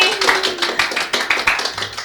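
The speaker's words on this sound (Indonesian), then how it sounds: "Beri tepuk tangan dong sama bintang tamu kita kali ini." Applause from a small audience for a guest on an Indonesian podcast, a short burst of close, uneven hand claps with a faint voice underneath.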